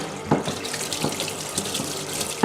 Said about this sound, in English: you're just going to give it a good rinse.